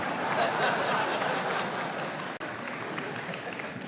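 A large crowd at a university commencement ceremony claps in a broad, continuous wash of applause, steady and full, with a brief dropout midway.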